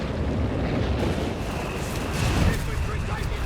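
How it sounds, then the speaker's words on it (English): Howitzer artillery bombardment in the World War II strategy game Company of Heroes 3: a dense, continuous rumble of low booms and blasts rolling on without pause, loud and close, with a commentator's voice running over it. "first howitzer bombarding"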